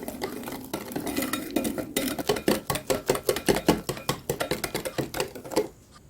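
A whisk beats rapidly against a bowl while cornstarch is mixed into a no-bake cake batter to smooth out lumps, giving a fast, even series of sharp scraping clacks, close and loud, without speech.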